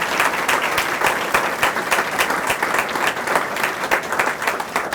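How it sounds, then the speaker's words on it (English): Warm applause from an audience at an annual meeting, a lively, close crowd of clapping hands sustained evenly for several seconds with no talking over it. "let's give Nora a nice round of applause"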